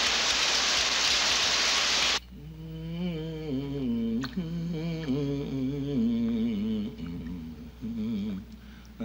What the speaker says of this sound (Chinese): 外面还下雨啊